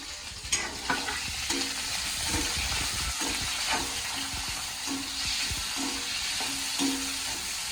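Thinly sliced onions sizzle and fry steadily in a hot pan for fish curry, with a spoon scraping and stirring at irregular intervals throughout.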